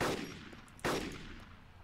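Gunfire in the DayZ Epoch survival game, two sharp shots about 0.85 seconds apart, each followed by a short fading echo over a low background rumble.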